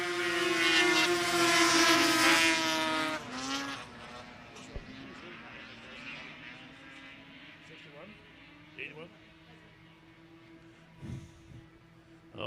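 Arctic Cat snowmobiles racing on a frozen pond in central Minnesota, a loud high-revving engine roar sweeping past close, then fading into distant buzzing engines under an announcer's commentary.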